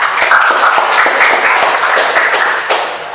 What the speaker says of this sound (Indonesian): Ya, kasih tepuk tangan Anda.